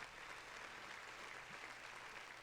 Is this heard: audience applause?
yes